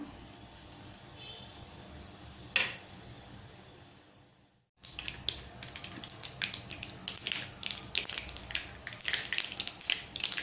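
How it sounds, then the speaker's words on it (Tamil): Mustard and fennel seeds splutter and pop in hot oil for a Tamil lima bean masala gravy, a dense run of sharp crackles starting abruptly after a quiet pause and continuing close and lively to the end. "கடுகு பொரிஞ்சிடுச்சு, வெங்காயத்தை போட்டுக்கலாம்."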